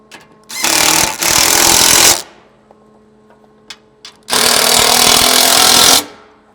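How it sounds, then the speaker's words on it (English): Power tool driving a 17mm socket to tighten bolts on a Toyota Tacoma front skid plate: two loud, close, sustained buzzing bursts of about one and a half seconds each, separated by quiet clicks. "Now I'm going to use a 17mm socket and tighten up the front of the front skid."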